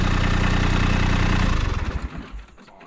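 A loud, close tractor engine idles with a steady rumble, then sputters and winds down to a stop near the end, during land clearing.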